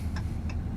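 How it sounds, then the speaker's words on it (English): A Dodge Ram's turn signal indicator ticks in a steady, evenly spaced rhythm of soft clicks, close and alone over a low idling hum. "Indicator."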